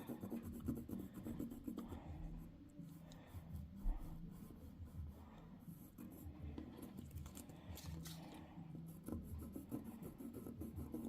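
A watercolour pencil scratching over paper as it outlines the border of a stamp, with soft, continuous rubbing strokes heard quiet and close.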